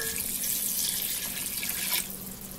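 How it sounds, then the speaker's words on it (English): Broth poured into a pot of chicken noodle soup with soft vegetables and noodles, a steady close liquid pour and splash that runs for about two seconds and then stops abruptly. "We now pour our broth in."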